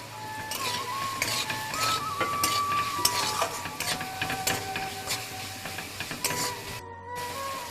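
Chilli powder, turmeric and salt sizzle in a hot pan for poha while a utensil stirs and scrapes steadily with rapid clinks. A faint mechanical whine runs alongside and ends in a brief silence near the end.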